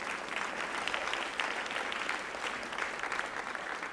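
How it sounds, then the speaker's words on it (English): A gala audience at the Mandarin Oriental in Washington, D.C. applauds in a steady, dense wash of many hands clapping, sustained and fairly loud throughout without voices on top. "that was an applause"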